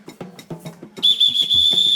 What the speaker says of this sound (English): blasting the whistle early before daybreak